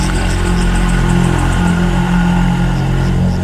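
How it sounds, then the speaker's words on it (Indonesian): A loud, steady motor engine drones close by, a constant rumbling hum with no talking. "Kalau itu barusan suara motor."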